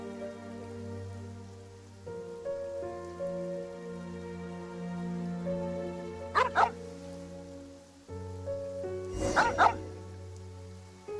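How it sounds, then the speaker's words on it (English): Hobson the dog in the video game Luna VI gives two short bursts of barking, each a quick cluster of yips, over a sustained tonal music bed and rainlike ambience. "Come on, Hobson, why the barking?"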